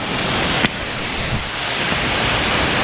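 Loud, steady rush of heavy water during an off-road bush bash, a broad continuous roar with a sharp burst of spray early on and no talk.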